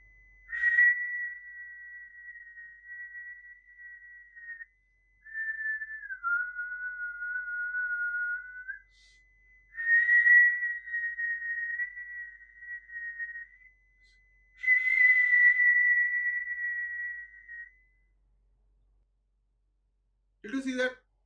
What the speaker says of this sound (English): I will match my whistle with this sound.